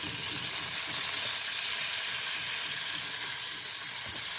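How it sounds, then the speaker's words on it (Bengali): Rice tipped into a pot of sizzling fried onion and garlic for pulao gives a loud, continuous frying hiss that stays steady throughout, close and without any voices. "এখন আমি চালটা দিয়ে দিব"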